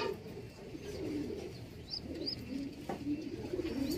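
Young squabs in the breeding section of a pigeon loft give a couple of soft cooing and chirping calls over a steady background of roost noise and low rustle.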